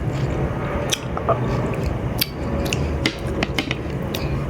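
Someone eats a crisp, very sour Thai cow-horn fruit, making close, wet crunches and squishy chewing with a few sharp bites.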